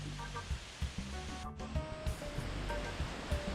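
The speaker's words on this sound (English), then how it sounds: "Look at the base of the waterfalls." Waterfall at La Chorrera near Bogota, Colombia, heard as a steady, dense wash of falling water. The roar carries on without a break, with brief faint bird or voice tones above it.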